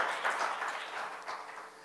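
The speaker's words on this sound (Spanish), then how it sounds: "Dale un fuerte aplauso al Señor." A church congregation at a prayer gathering gives a short round of applause, with steady, moderately soft clapping from many hands that fades toward the end.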